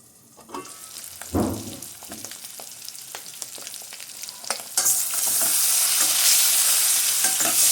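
Eggs frying in oil in a pan for a drumstick egg curry, stirred and turned with scraping strokes; a loud sizzle swells after a few seconds and holds steady to the end, with no talking.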